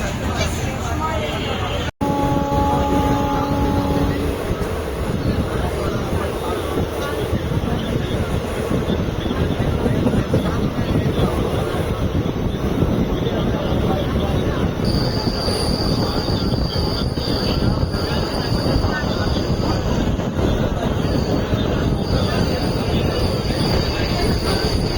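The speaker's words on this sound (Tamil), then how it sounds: "காட்பாடியிலேருந்து நம்ம ட்ரெயின் கிளம்பியாச்சுங்க" An express train pulls out of Katpadi station with a loud, constant rumble of rolling wheels, and high metallic wheel squeals ringing through the middle and end of the run.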